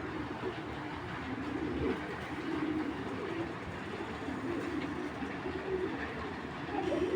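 Low, soft cooing of racing pigeons repeats in gentle rolling phrases over a steady background hum, with no talking.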